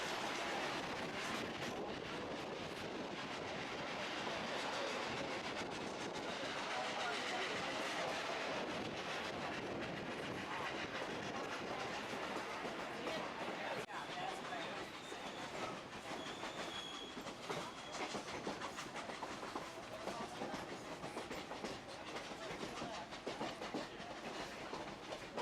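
A Durango & Silverton narrow gauge train runs out of a canyon across the Animas River, giving a steady, continuous rumble of wheels and cars that holds at an even level throughout, with no talking.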